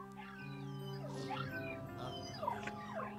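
A small dog whimpering and yipping in the video game Luigi's Mansion, a series of high, sliding whines over a soft humming game music backdrop.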